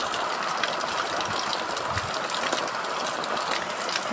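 Floodwater after heavy rain in a village street, rushing in a steady, dense, unbroken roar that stays loud and close throughout, with no voices.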